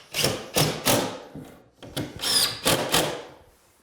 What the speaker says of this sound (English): And you screw it to the OSB on both sides.